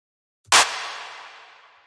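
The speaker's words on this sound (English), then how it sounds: "just a clap sample. Got a bunch of reverb on it and some drum bus and a high pass." Single clap sample with heavy reverb, drum bus processing and a high-pass filter, a sharp bright crack followed by a long washy tail fading over more than a second, heard alone.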